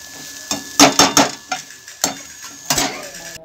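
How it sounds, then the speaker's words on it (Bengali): Round radish slices coated in salt, turmeric and chili powder fry in a pan, a close sizzle broken by sharp scraping knocks of a spatula turning them, with no talking. "মূলোটাকে নুন, হলুদ, একটু লঙ্কা গুঁড়ো দিয়ে মাখিয়ে গোল গোল করে একটু ভেজে নেওয়া হচ্ছে"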